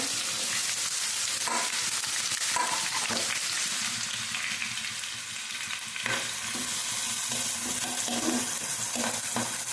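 Onions frying in hot oil for a chicken and potato curry, a steady loud sizzle with occasional stirring scrapes and clinks throughout, no talking.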